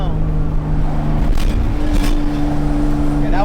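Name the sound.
truck passing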